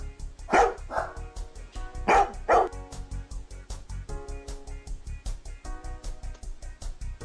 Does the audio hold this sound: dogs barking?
yes